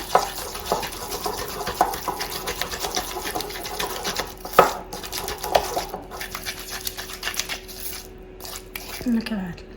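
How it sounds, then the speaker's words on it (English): A chicken marinade of grated ginger and garlic is mixed by hand in a bowl, giving soft irregular squelches and taps with scattered clicks. The sound is quiet and close. "And now the only thing left to do is mix it all up."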